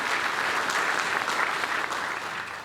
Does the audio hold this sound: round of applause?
yes